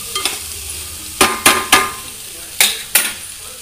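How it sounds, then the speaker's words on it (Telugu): Curry with salt and chili powder being stirred in a pan, sharp metallic scrapes and clanks of the spoon arriving in irregular bursts over a faint sizzle. "ఉప్పు కారం బాగా కలిసేటట్టు కలపాలి."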